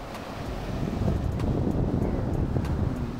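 Sea waves wash steadily onto a clean beach at high tide, a continuous low surf rush mixed with wind buffeting the microphone, with no voices.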